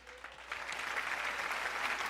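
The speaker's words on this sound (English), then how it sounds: "Y'all get a nigga round of applause" Applause from a comedy show audience at a live taping, a steady dense patter of many hands clapping that grows a little fuller after the first half second and keeps going to the end.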